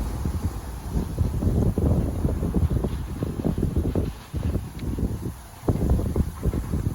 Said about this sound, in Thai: ลมแรงมากตอนนี้ ไผ่ลู่ลมเลยครับ